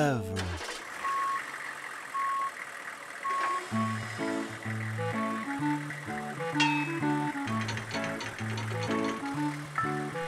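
Cartoon tow truck from Morphle sounding repeated evenly spaced reversing beeps, soon joined by a bouncy musical score with a bright chime-like flourish, fairly loud throughout.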